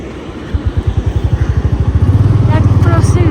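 A motorcycle engine on a ride through Ladakh thumps in rapid, even firing pulses that begin after a short pause and quicken into a steady, close, loud drone, with faint voices in the background.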